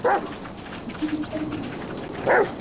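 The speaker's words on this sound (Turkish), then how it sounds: "Burada küçük bir köpeğin kokusunu alıyorum. Yavru bir köpek." A Dalmatian puppy in GTA V gives two short, sharp yips, one at the very start and another near the end, with quiet game ambience in between.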